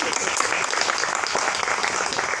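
Audience applause welcoming poet Dr. Tanaka Chidora at a poetry and spoken word soirée: dense, steady clapping from a crowd, fairly loud and continuous throughout.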